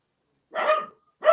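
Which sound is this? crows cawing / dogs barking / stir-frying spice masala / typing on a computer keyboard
dogs barking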